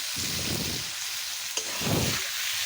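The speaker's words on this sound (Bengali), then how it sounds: "কচু দিয়ে ভালো করে খুন্তি দিয়ে নেড়ে চেড়ে কষিয়ে নেব" Taro pieces with turmeric and salt sizzle and fry in a pan while a spatula scrapes and stirs them in two broad sweeps, with a steady bright hiss underneath and a brief knock near the middle.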